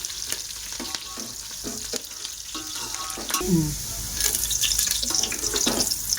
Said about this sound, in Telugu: ఆనియన్స్ అయితే కొంచెం గోల్డెన్ కలర్లో వచ్చేదాకా ఫ్రై చేసుకోవాలి మనం